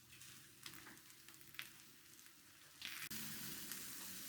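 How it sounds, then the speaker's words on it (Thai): Wrapped chicken breasts with Polish herbs fry in a hot pan, giving a steady, soft sizzle with a few crackles that swells into a louder, fuller hiss near the end. "เราก็จัดการทอดไก่นะคะ"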